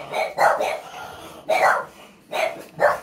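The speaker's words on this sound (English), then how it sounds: "those are my puppies." Several puppies bark and yip in short bursts close by, four clustered outbursts separated by brief pauses, with a few yips trailing between them.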